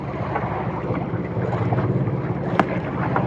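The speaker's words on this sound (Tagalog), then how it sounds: "Lalaki ng gulong ng alon." Big sea waves rolling around a small fishing boat offshore, a steady loud wash of water and wind buffeting with a sharp knock partway through.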